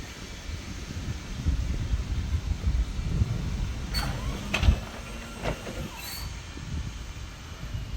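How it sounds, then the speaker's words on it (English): Railway points shifting at a heritage train station, a few sharp metallic clunks and clicks in the middle, set against a low steady rumble of the station. "that was the points that just moved"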